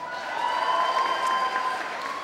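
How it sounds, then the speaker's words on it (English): Steady, dense applause from a school awards ceremony audience fills the space evenly, a continuous wash of many hands with faint tonal hum underneath and no voices over it. "Round of applause, please,"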